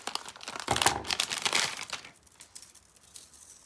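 Crinkly plastic packaging crackles and rustles loudly up close as it is cut open, a dense burst that fades to softer crinkling.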